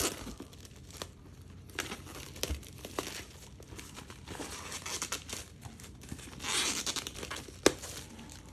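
Plastic wrapping on a Supercar 60th Anniversary Special Edition Blu-ray is torn and crumpled close up, with repeated crinkling rips and scratches, a sharp snap near the end, and no talking.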